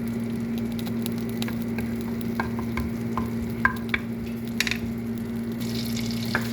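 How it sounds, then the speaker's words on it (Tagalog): Garlic frying in butter in a pan gives a soft, steady sizzle with light stirring taps and scrapes scattered through, under a constant low hum, with no talk. "prito natin yung bawang sa butter."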